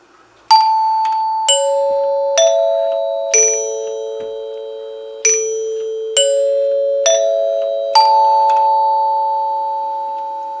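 A NuTone K41 Symphonic door chime plays a sequence of clear, ringing tones, eight strikes in an unhurried melodic pattern, each note sustaining and slowly decaying, loud and close with no talking.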